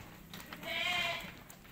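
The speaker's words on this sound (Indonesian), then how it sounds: "Nah, ini dombanya." A single Batur sheep bleats once, a clear, wavering call that rises and fades over a faint background, fairly close, with no talking.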